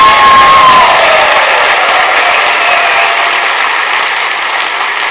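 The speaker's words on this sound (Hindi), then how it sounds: "एक बार जोरदार तालियां अपने LIC प्रोफेशन के लिए बजा सकता है" Loud, sustained applause from an audience at an LIC insurance agents' motivational seminar in India, a dense wash of clapping that stays steady and slowly fades slightly over several seconds.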